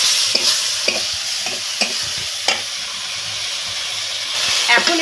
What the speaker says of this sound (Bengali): উনুনের জাল কমিয়ে দিয়ে এই মশলাটা এখন এইভাবে কয়েক মিনিট কষতে থাকবো